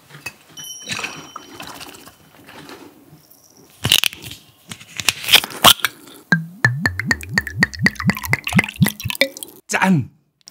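Soju glugs and trickles into a glass after a few clattering clinks, the pour bubbling in quick rhythmic pulses up close, ending with a sharp clink.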